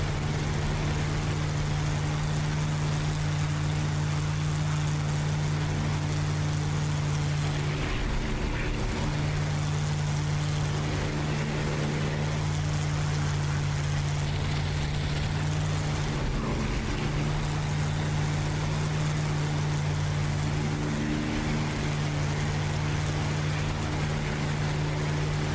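A warbird aircraft engine in the DCS flight combat game running after radiator damage: a loud, steady propeller drone with a strong low hum, briefly faltering and wavering midway before droning on.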